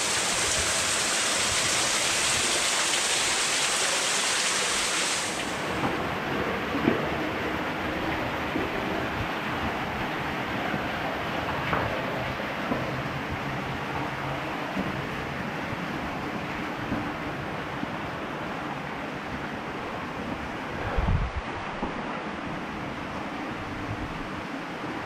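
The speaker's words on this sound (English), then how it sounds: "That's the South Sandyam River below us." The South Sandyam River flows below House Rock Cave, a steady broad rushing wash heard from above, with a few faint knocks and scuffs over it and no talk.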